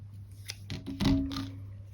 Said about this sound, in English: and I'm going to cut that